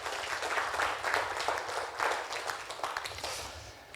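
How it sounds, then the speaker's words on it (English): Guests at a wedding reception applaud themselves, a sustained round of clapping from a sizeable room heard at moderate distance, with scattered louder claps and faint cheers rising through it. "give yourselves a round of applause"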